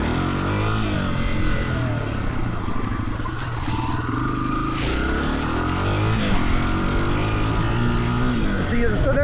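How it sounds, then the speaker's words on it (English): A Honda CRF300F dirt bike under wide open acceleration, its engine note droning continuously and fairly loud throughout with rising and shifting tone, mixed with wind and road rumble. "there's wide open acceleration there to show you that"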